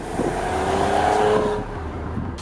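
A Mercedes-Benz GLE 450 AMG Coupe engine revs hard toward its 6,200 RPM redline, rising in pitch to a sustained roar before easing off, loud and close with no voices.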